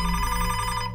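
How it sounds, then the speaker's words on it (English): A telephone rings in a short, bright electronic trill that buzzes rapidly, loud and close, filling the brief moment on its own. "Fitzgerald's phone suddenly rang"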